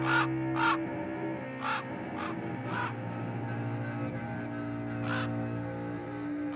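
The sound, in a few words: raven cawing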